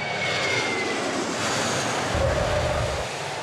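Airplane engine roaring steadily at a busy airport, a broad continuous wash of jet noise with a deeper rumble swelling in the last second or so, no voices.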